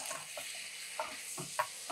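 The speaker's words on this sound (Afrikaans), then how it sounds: "braai die groentetjies nou baie lekker saam." Mixed vegetables frying together in a pan give a steady, fairly faint sizzle with occasional soft crackles and stirring clinks throughout.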